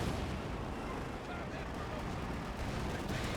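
Tank and artillery fire rumble in the World War II strategy game Company of Heroes 2, with dense, constant booming and explosions at a moderate distance under someone commentating.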